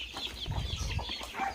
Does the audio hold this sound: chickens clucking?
yes